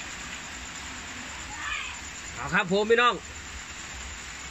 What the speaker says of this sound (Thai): นี่ฝนตกอยู่ตอนนี้